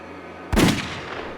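A single loud rifle shot rings out while hunting in Texas brush. The sharp crack booms, then fades quickly into quiet outdoor background.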